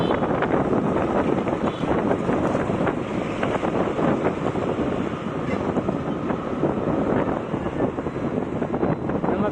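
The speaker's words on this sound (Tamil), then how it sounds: "ரொம்ப காற்று அடிக்குது." Strong wind in Coimbatore, India, roars steadily into the microphone, a constant loud buffeting rush with no pauses and no voices.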